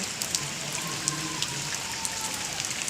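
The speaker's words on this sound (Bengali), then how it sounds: "চলো এই বৃষ্টি ভেজা দিনে এই পুকুরের ঘাটে বসে" Steady rain patters onto a pond, a continuous soft hiss broken by scattered brighter drips and splashes, with no voices.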